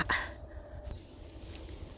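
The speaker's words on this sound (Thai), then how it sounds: "หมาเห่าวิ่งหนี" Outdoors near vegetable plots, a dog gives a short, sharp bark at the start, then a few fainter yips and whimpers trail off against steady outdoor background noise.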